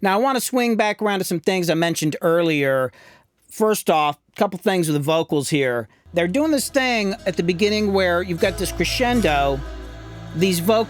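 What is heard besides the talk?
None of the usual background noises is heard.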